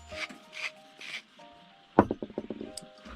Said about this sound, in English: Little sprinkle of salt and a little grind of pepper.